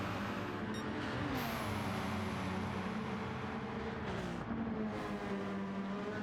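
A race car in Gran Turismo 7 holds a steady, high-revving engine drone around the Bathurst mountain circuit, its pitch sagging briefly under braking before climbing again, with no talk.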